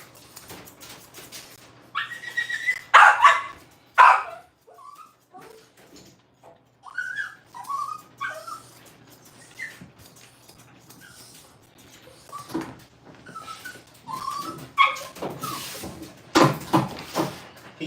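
A dog being groomed makes short whimpers and yips between bursts of clipper and scissor noise, near and fairly loud, with brief handling thumps.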